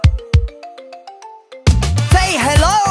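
A musical telephone ringtone from a children's song plays as a quick series of clear, plucked electronic notes up close, then cuts to loud singing voices with backing music.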